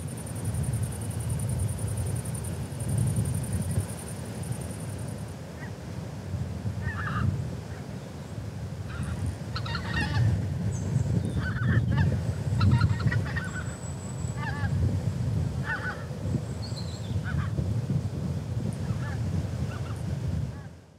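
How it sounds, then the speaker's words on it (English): A flock of geese circles above a hunting spread of decoys, honking repeatedly at a moderate distance over a steady outdoor wind rumble, the calls scattered and overlapping throughout. "It didn't take long before the first flock started circling around us, clearly curious about the decoys."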